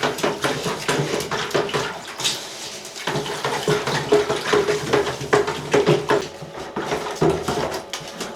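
Wallpaper paste being briskly mixed in a bucket standing in a bathtub, with repeated sloshing, stirring and scraping knocks against the bucket sides in an uneven rhythm, close up.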